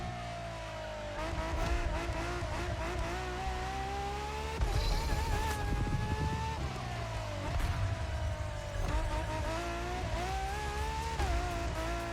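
An Audi RS5 Coupe in the racing game The Crew Motorfest roars at high revs while its tires squeal and lose traction through corners, the engine note rising and falling with gear changes and slides.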